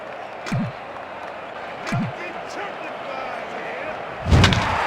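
A bat sharply meets the ball for a line drive in MLB Slugfest 2, during a Red Sox versus Devil Rays game; a few short cracks and thumps ring out over ballpark crowd noise, with a commentator talking.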